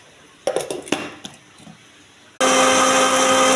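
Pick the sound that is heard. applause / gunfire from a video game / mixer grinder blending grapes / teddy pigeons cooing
mixer grinder blending grapes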